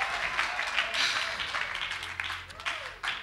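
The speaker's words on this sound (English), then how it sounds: "can we give our Heavenly Father a round of applause?" A church congregation claps in a round of applause, a moderately loud, uneven patter of many hands nearby that eases slightly toward the end, with a voice faintly present underneath.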